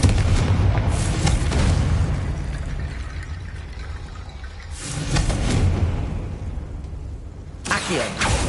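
A Confringo blast spell fired in Hogwarts Legacy, a loud booming explosion burst up front, then rumbling between two more broad blasts spaced a few seconds apart, with no talk.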